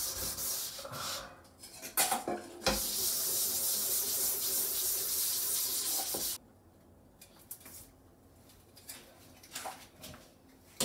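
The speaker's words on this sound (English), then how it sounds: "So I'm gonna scrub for a while, and I'll show you." A scrubbing pad rubs back and forth over soap scum on bathroom shower glass, a steady rasping swish for several seconds, then stops, leaving faint scattered scrapes and clicks.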